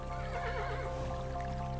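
A horse in the video game Kingdom Classic gives a clear wavering neigh over a steady background hum, close and moderately loud, with no talk.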